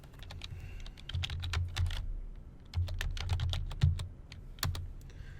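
Fingers type on a computer keyboard in quick irregular bursts of crisp key clicks, close and moderately loud, pausing briefly between runs with no talking.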